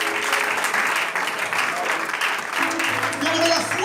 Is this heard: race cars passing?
no